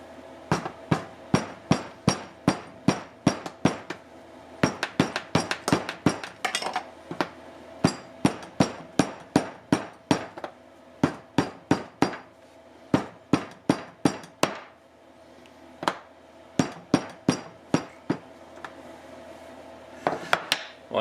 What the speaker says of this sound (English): what happens if we hammer out our bevel instead of just grinding it from a nice flat billet?